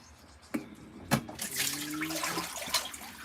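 An LG ThinQ MEGA Ultimate washing machine drains water during its self-clean cycle, a soft gurgling rush with a few brief splashy surges, faint and fairly distant.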